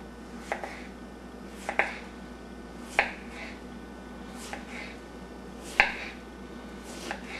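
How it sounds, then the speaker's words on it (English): Squash and zucchini are sliced thin with a knife on a cutting board for fried chips, giving crisp, evenly spaced chopping taps about once a second, close and clear over a quiet background. "Now what we're going to do is slice these up as thin as we can."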